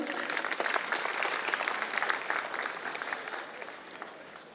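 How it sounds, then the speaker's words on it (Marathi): An audience claps at a student felicitation ceremony held by an academy in Pune, a dense, steady round of applause that fades slightly near the end. "एकदा जोरदार टाळ्या होऊन जाऊ देत मित्रांनो."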